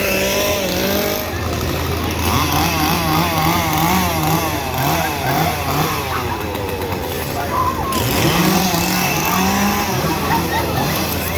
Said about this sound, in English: Uh-oh, chainsaws.